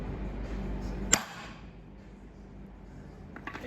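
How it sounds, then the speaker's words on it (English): A single sharp, loud crack as a press rig smashes at a BMW E39 V8 axle, standing out against a steady low background hum, followed by quieter rumbling and a few faint knocks near the end. "let's play the video of trying to smash the axle out"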